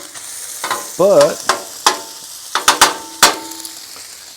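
Cabbage and sausage fry on a Blackstone griddle with stirring scrapes and clanks of a spatula, several sharp metallic hits over a steady sizzle, close by, with a brief spoken word.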